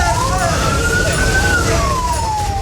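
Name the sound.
fire engine siren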